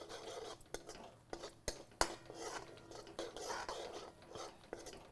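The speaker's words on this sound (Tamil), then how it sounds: "தேங்காய் துருவலை நல்லா நெய்யில் போட்டு பெரட்டிக்கோங்க" Grated coconut roasting in ghee, stirred with a utensil: soft scraping and rasping strokes punctuated by sharp metallic taps against the pan, close and quiet, continuing steadily with no voices.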